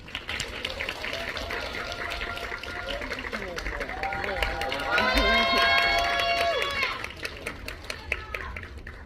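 An audience at a film screening talk claps and cheers, and a loud, high crowd cheer swells midway over the applause before settling back into scattered clapping.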